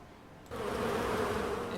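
A close, steady, dense buzz of bees is triggered by a bees scroll in the video game Dungeonmans. It starts abruptly after a quiet moment and continues loud and unbroken.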